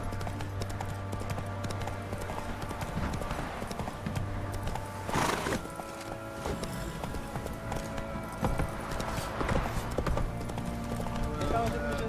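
Roach the horse gallops through The Witcher 3, hooves clip-clopping steadily alongside occasional whinnies, mixed with game music and effects throughout, while someone talks over the action.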